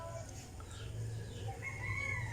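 A rooster crows in a noisy morning neighbourhood with other birds, the crow rising as a drawn-out call over a steady low rumble of background noise, moderately distant.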